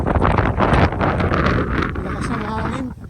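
Strong wind gusts across a view deck at Baag in Tarlac, battering the microphone with a loud, uneven roar that surges and eases, while voices talk underneath.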